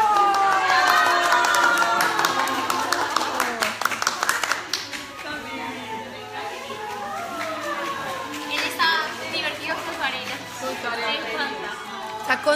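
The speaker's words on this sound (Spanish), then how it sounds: "Vamos a aplaudir" Children and an audience clap and cheer at a school visit, a loud burst of applause at the start that thins into scattered clapping, with lively chatter and children's voices running throughout.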